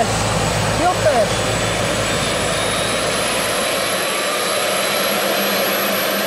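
Aircraft jet engines run loud and steady at close range, a constant roar with a high whine over it. There is no speech, and faint brief noises come at the start.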